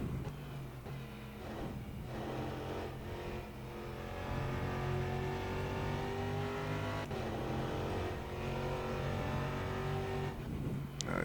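LMP2 prototype race car engine in rFactor 2, a loud close onboard roar climbing through the revs with a sharp gear-change dip midway before rising again, no talking.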